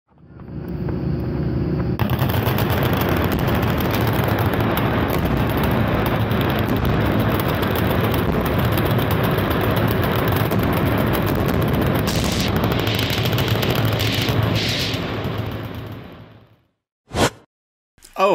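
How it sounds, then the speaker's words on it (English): Gunfire aimed at explosives at a Kentucky gun range, a loud sustained barrage of rapid shots and booms lasting many seconds, then cutting off to near silence with a few brief final bangs. "That looks to me like gunfire at explosives of some sort"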